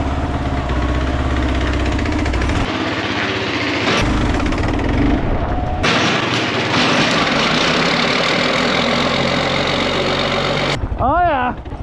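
An old Ford engine, tow-started by rope, runs loud and rough with an uneven knocking idle and revs that rise and drop throughout. Voices talk over it near the end.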